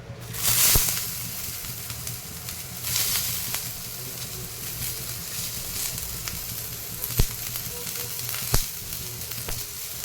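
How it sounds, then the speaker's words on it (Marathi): Chopped onion sizzles and fries steadily in oil in a pan for chicken curry, a continuous crackling hiss with a few sharper pops and a louder burst at the start. "अशा प्रकारे आपण आता कांदा छान असा लाल होईपर्यंत भाजणार आहोत."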